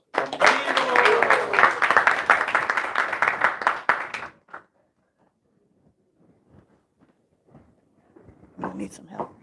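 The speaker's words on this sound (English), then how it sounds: "Let's give a big round of applause." Audience applause at a Srila Prabhupada disappearance day celebration, a loud burst of many hands clapping for about four seconds before fading into near silence with scattered faint sounds and a brief voice at the end.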